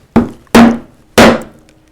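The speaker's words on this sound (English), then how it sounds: "just stab that in with a mallet" Wooden mallet striking a wood carving gouge to stab a curved cut for a rosette, three sharp close thwacks with short ringing decay, the second and third louder.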